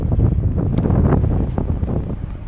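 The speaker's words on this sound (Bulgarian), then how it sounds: "Малко е ветровито" Gusty wind buffets a microphone outdoors beside a Segway Snarler AT6L 570cc ATV, producing loud, continuous low rumbling with sharp bursts throughout; no talking.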